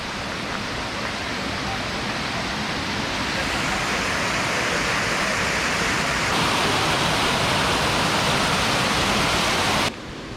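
Loud rushing water pours continuously through a water mill in Maramureș, Romania, a dense, steady roar like a mill race or weir, with no voices.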